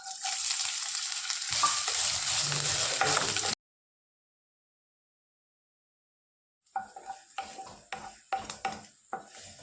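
Dried chillies, curry leaves and chopped ginger frying in a pan, with a loud, dense sizzle up close. After a few seconds of silence, quieter sizzling returns, broken by scraping and stirring knocks from a utensil against the pan.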